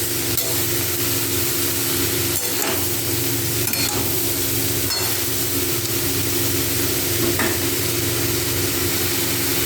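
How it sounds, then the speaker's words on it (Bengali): Ash gourd (chalkumra) being stirred and fried in a pan, a steady loud sizzle with occasional scraping stirs against the pan, no one speaking. "কিছুক্ষণ সময় ধরে চাল কুমড়োটাকে কষিয়ে নেব"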